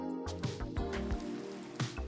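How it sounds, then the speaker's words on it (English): Rain in the Minecraft video game patters softly under a layer of gentle tonal game music, with a few soft taps and thumps scattered through. "super vibey in this rain right now"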